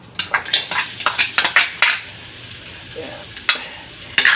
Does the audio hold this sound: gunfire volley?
no